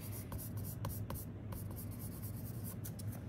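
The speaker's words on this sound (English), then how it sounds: "I'm gonna now focus on the point of the pencil a little more so I can create a harder," A graphite pencil shades a swoop of hair in a drawing on paper, with continuous close scratchy strokes and a few sharper taps of the point.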